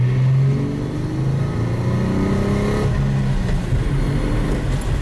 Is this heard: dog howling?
no